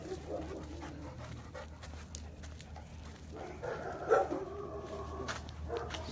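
A puppy pants in quick, shallow breaths close by, with a faint whimper and a brief yip partway through over a low steady background hum.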